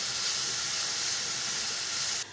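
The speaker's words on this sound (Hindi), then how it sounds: "हमारा पानी अच्छी तरह से उबल चुका है" Steady hissing, bubbling rush of water boiling vigorously in a pot for Kabuli pulao, continuous and close, with a slight drop in level near the end.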